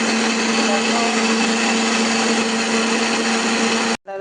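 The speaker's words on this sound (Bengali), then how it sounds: "আদা রসুন পেঁয়াজ বেটে নিয়েছি বন্ধুরা" Onion, ginger and garlic whirring in a blender, a loud, steady grinding drone with a constant motor hum for about four seconds before cutting off abruptly.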